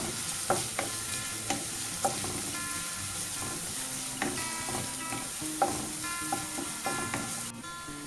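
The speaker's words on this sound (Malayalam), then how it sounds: "ഇനി ഇതിൻ്റെ പച്ചമണം മാറുന്നത് വരെ ഒന്ന് വഴറ്റി കൊടുക്കാം." Ginger and garlic sauté in hot oil, a steady close sizzle broken by soft clinks and scrapes of a spoon stirring the pan at irregular moments, with no talking.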